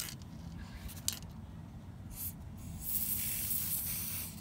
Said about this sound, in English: hold it a little bit away and just spray it over the picture